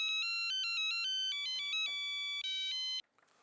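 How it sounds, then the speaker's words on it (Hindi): A bright electronic ringtone plays a repeating melodic pattern, loud and close, then cuts off abruptly near the end. "देव भाई को फोन करके पूछ लेता हूँ।"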